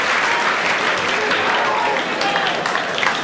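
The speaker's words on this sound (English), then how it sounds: "number 6 Cameron unfortunately receiving a rather sympathetic round of applause" Stadium crowd at a rugby league cup match between St Helens and Whitehaven applauds steadily as an injured Whitehaven player is stretchered off, a dense sustained wash of clapping with some crowd murmur throughout.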